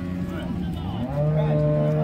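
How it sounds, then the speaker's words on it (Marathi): A farmer's cow lows loudly and close at a busy livestock market in Modnimb, Madha taluka, Solapur district, one long sustained moo rising over the crowd's background murmur. "मामाची गाय, शेतकऱ्याची गाय आहे."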